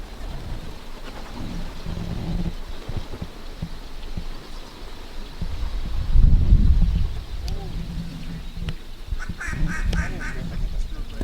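Mallard ducks quack in repeated bursts during a North Dakota duck hunt, close and fairly loud over wind noise, with a heavy low thump in the middle and hunters' voices mixed in.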